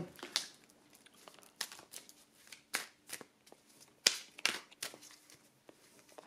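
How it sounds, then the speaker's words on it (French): Tarot cards being shuffled and drawn by hand, soft, close papery slaps and rustles in irregular bursts, faint and otherwise quiet. "Je vais quand même tirer une autre carte."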